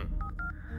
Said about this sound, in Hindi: इधर उधर फोन कॉल तो करना पड़ेगा ना